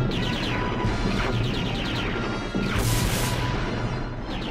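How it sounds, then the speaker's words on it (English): Cartoon weapons blast in a Decepticon ambush from The Transformers, a dense barrage of crashing, booming shots and sharp zaps layered over continuous battle noise, loud and close with no talk. "They're firing on us. It's a Decepticon ambush."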